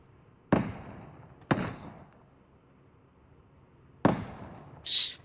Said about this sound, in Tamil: இது பாரு பிஸ்டல்ல அடிச்சிட்டு இருக்கு.